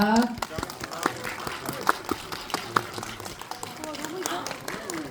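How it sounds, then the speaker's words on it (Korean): Audience applause at a stage greeting for the film 청설, sharp scattered claps over a crowd wash with voices talking throughout. "큰 박수 부탁드리겠습니다"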